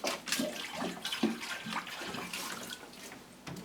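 Water pouring and splashing into potted orchids during watering, a steady running gush with several louder splashy bursts, close and continuous, with no talking.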